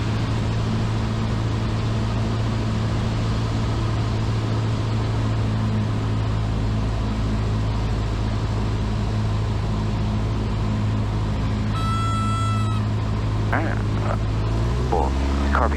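Steady, loud drone of a small training airplane's piston engine in slow flight with carb heat on and full throttle, continuous throughout, with a faint cockpit tone near the end.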